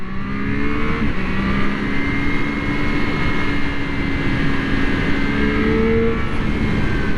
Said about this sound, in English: like the bike wants to be revved out